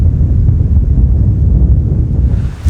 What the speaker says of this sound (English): Lucky I got my microphone, because it is windy, really windy.